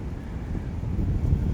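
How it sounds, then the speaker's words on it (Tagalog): Steady, loud wind roars and buffets the microphone, a dense low rumble that continues without a break. "Sobrang lakas ng hangin."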